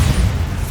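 A Bombarda spell detonating in the Hogwarts Legacy video game, a single deep, loud boom with a heavy low rumble that fills the moment and fades briefly.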